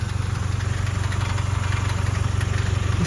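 A Range Rover engine idles nearby, a loud, steady low rumble with an even pulsing throb and no revving, heard alone without voices.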